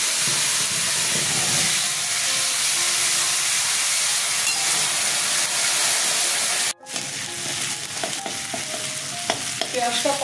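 Onion, ginger and chilli fry in hot oil after fennel seeds, producing a loud, steady, broadband sizzle that drops out briefly, then resumes with stirring clinks and scraping.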